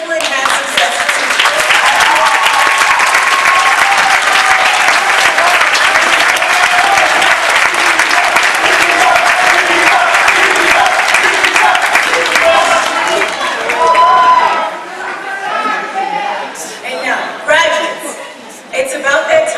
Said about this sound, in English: please stand up and give them a round of applause to this beautiful and handsome set of teachers